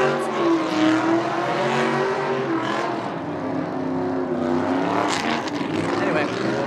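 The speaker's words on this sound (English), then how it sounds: "so there's drifting that's going on." Cars drift at the SEMA show with loud, wavering engine revs and tire noise in a busy outdoor setting, and voices are heard nearby.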